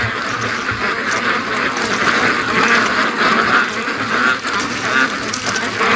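A Muscovy duck and other ducks near a lake make a dense, loud, continuous chorus of quacks and honks. Splashing water runs underneath throughout.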